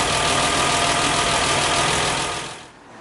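A 1968 MGC engine idles loud and close with a dense, even rumble that suddenly drops away near the end, no voices present.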